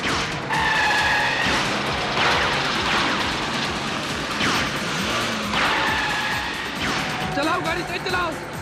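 A car drives fast with repeated tire skids and squeals, engine roaring under dramatic music and occasional impact hits, as a tense chase scene plays out with a voice shouting briefly.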